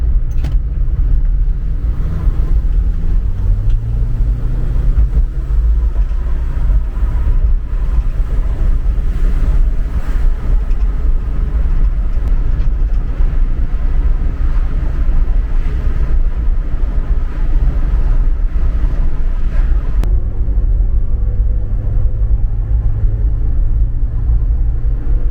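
A Subaru Forester cruises along a road, its engine droning steadily beneath constant low road and tyre rumble, with engine pitch rising and settling through gear changes and no one talking.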